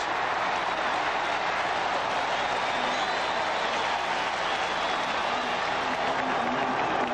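A stadium crowd of Washington fans at the 1982 Rose Bowl against Iowa roars and cheers continuously, a dense wash of noise from many people.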